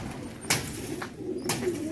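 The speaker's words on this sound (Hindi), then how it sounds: "ये कबूतर यहाँ पे जो है ना बहुत आला।" Pigeons cooing on a rooftop in Hazro, soft low coos mixed with a couple of sharp flutters or taps and faint background noise.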